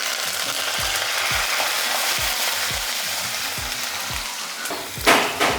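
Pepper, cumin, chopped ginger and curry leaves sizzle steadily in hot oil, with a continuous crackling hiss. A utensil stirs repeatedly underneath, and a louder burst of spitting comes near the end.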